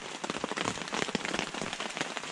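Steady rain patters densely on a shelter over a riverside campsite, an even close hiss of drops without voices.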